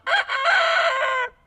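A small backyard rooster gives one loud, close crow, a single drawn-out call lasting just over a second, with no other sounds around it.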